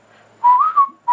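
A person whistles a short tune: a couple of clear, bright, wavering notes close to the ear, a brief pause, then another note begins.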